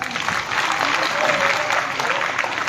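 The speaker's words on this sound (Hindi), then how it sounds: "एक बार जोरदार तालियां।" Steady, dense applause from a large crowd at a public event in Okhla, Delhi, continuous and fairly loud throughout with no pauses.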